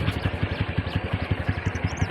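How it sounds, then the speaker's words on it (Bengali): A motorcycle rides along paths through open fields with a close, loud and steady engine putter. Its regular rapid exhaust pulses are joined by wind noise, with no talk. "কি সুন্দর আমরা ঘুরে বেড়াচ্ছি মোটরসাইকেল না"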